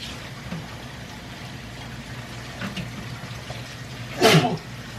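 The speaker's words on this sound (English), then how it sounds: "Somebody got the sneezums." A single sneeze bursts out near the end in a home kitchen while someone cooks with pumpkin puree, loud and brief over a low background hum.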